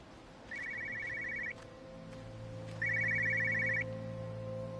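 An old telephone in Everybody's Gone to the Rapture rings in two rapid trilling bursts about a second long each, separated by a pause, over a low ambient hum.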